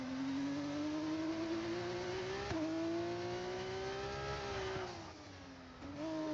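A race car engine in a Velocita Competizione league race, whining steadily upward through gears with a shift dip midway, then easing off and picking up again, loud and close with no talk.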